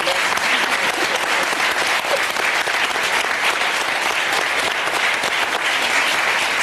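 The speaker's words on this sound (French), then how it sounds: "on peut vous applaudir" A live audience at a stage magic and comedy show bursts into loud, sustained applause, dense continuous clapping close and even for several seconds, with no talking.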